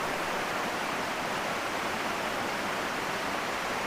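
Maticdum Busay waterfall in Tandag City, Surigao del Sur, rushes with a strong flow, producing a steady, dense broadband roar of falling water that holds even and unbroken throughout.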